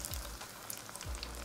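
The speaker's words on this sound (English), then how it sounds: "Stir the tofu around gently to make sure they're frying evenly and not sticking to each other." Stuffed tofu deep frying in oil in a pot gives a steady, dense crackling sizzle throughout, with a couple of soft low knocks from stirring.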